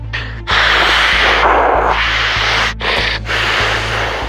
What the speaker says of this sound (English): Blowing his nose